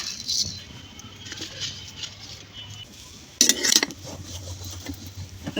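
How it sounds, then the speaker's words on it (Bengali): Cumin seeds dry-roasting in a pan on a stove, with light rattling and scraping of stirring, scattered metallic clinks and one louder clatter partway through, close up. "চুলায় কড়াইটা দিয়ে দিছি আর এখন ফুরানি বাটার জন্য দিয়ে দেবো জিরা"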